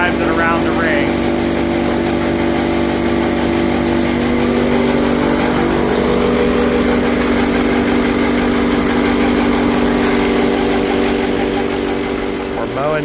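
A farm mower engine runs steadily while cutting patches of sudex planted in a soybean field, a loud continuous mechanical drone with a constant hum, and a voice talks over it.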